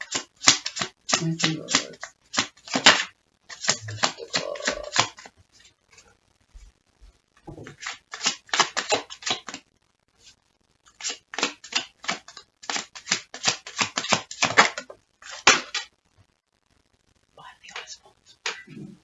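Tarot cards are shuffled by hand in rapid riffling bursts, broken by short pauses, close and crisp, with a voice speaking softly between the runs.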